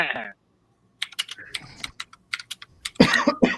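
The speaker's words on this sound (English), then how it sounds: "Clackety, clackety, keyboard clackety." Computer keyboard clattering in quick uneven bursts of key clicks, close and fairly loud, with a cough and throat-clearing breaking in between the typing.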